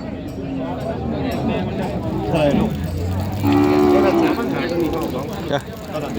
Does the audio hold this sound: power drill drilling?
no